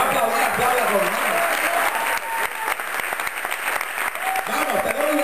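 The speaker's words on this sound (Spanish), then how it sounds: "Si va a aplaudir, aplauda conmigo." A church congregation claps loudly and continuously, a dense wash of applause that fills the room, with a preacher's voice speaking in Spanish over it.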